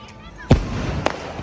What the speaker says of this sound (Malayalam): ഇതാണ് ഗൈസ് ഇവിടുത്തെ വെടിക്കെട്ടൊക്കെ